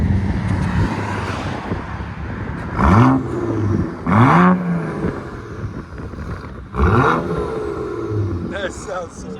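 Straight-piped 2010 BMW 135i with a 3.0L inline-six revving in sharp, loud bursts, three distinct rev sweeps rising and falling over a steady idle rumble, heard close from outside with some wind buffeting.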